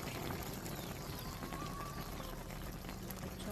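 Fish sauce poured into a cooking pot of taro leaves in coconut milk, a steady liquid trickle lasting a few seconds over kitchen background noise.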